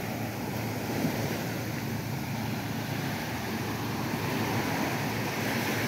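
Surf washing onto the white-sand beach at Puting Buhangin, Bitaugan East, Cagwait, Surigao Sur, a steady close roar of breaking water with wind buffeting the microphone throughout.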